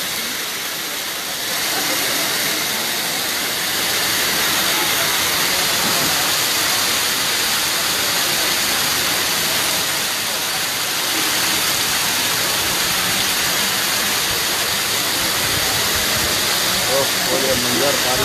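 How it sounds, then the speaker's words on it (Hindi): Heavy rain pours onto a flooded Hyderabad street outside a cafe hotel, making a loud, continuous hissing roar for the whole stretch, with faint voices underneath. "क्या बारिश है भाई, वाह वाह वाह वाह वाह, दे दे दे दे कर रही माशाल्लाह।"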